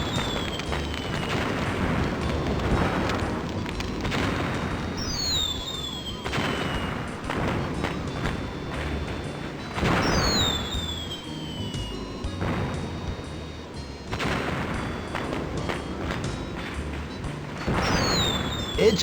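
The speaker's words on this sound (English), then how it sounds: "Even now, some fireworks are still going off. What a great pyrotechnics show!" Fireworks burst in the video game Normality, a run of booming blasts every few seconds, each with a sharp crack and a rising whistle, against a continuous rumbling backdrop.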